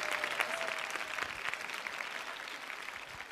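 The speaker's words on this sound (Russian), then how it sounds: "ваши аплодисменты" Studio audience applause for a contestant on a televised singing show, a full, steady round of clapping heard at moderate distance, with a brief tonal sound early on.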